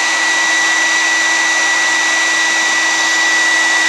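Hairdryer on its high setting, blowing steadily about an inch from acrylic yarn, a loud, close, unbroken whooshing roar with a steady whine running through it and no voices.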